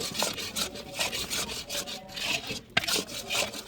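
Scraper stirring wheat flour as it roasts in linseed oil in a pan for winter panjiri, giving a steady run of close, gritty scraping and rubbing strokes with one sharper knock near the end.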